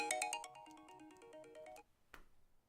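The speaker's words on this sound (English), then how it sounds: "I got a notification that may or may not have interrupted me there." A phone notification chime plays a quick bright melodic run of tones, fairly loud and close, then stops; a short soft knock or click follows after a brief pause, with no talking.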